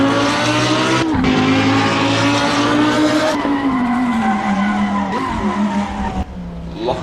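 Race car tires skid and squeal under hard braking lock-up in Assetto Corsa, a loud sustained screech over the engine's steady drone, pitch sliding downward as the car slows, with brief breaks before the squeal resumes.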